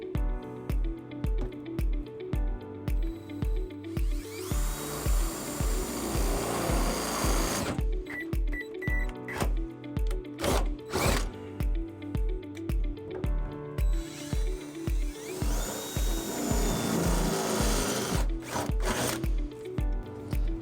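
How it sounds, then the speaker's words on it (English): A drill with a half-inch bit bores holes through the trunk pan of a 2009 Toyota Camry during a trailer hitch install, sounding as a close, rhythmic rattling hum with two louder grinding bursts as the bit cuts the metal. "we're going to use these two holes in the bottom of the trunk pan to drill our holes for our next bolts"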